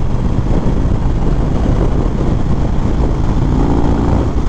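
A 2021 Indian Springfield Dark Horse motorcycle with a 116 cubic inch engine rumbles steadily while riding, a loud continuous drone mixed with heavy wind buffeting on the microphone.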